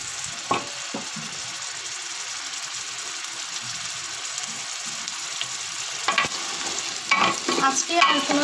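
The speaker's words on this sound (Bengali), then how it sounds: "সব কিছু কষিয়ে নিচ্ছি।" Food being stirred and sautéed in a frying pan, a steady sizzle with scraping strokes, louder stirring bursts toward the end; no talking.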